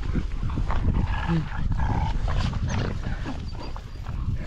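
Pit bull dog Astra whining, a thin high cry rising over a busy room full of other dogs, scuffling and people talking nearby.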